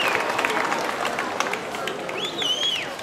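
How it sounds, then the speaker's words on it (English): A crowd at a demolition derby breaks into applause and cheering, a dense wash of clapping with some whistles near the end. "Let's give a round of applause for Derek Serra, local guy that's been supporting us forever."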